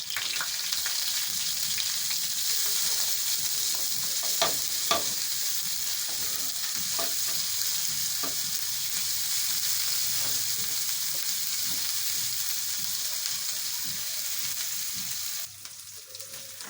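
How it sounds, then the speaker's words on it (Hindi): Cumin seeds and ginger garlic paste frying in hot oil in a home kitchen while a samosa is being made, giving a steady, close crackling sizzle with occasional stirring clicks and scrapes throughout. "अब इसमें हम ये थोड़ा सा जीरा ऐड करते हैं, थोड़ा सा अदरक लहसुन का पेस्ट ऐड करते हैं।"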